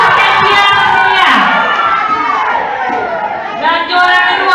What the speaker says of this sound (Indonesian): Kita beri tepuk tangan yang meriah untuk Hortensia Cecilia.